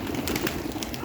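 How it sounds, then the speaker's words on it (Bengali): Pigeons on the roof of a village house coo softly and repeatedly against a dense, noisy outdoor background. "অনেক কবুতর। এই যে সবাই যে চালের উপরে বসে পড়লো"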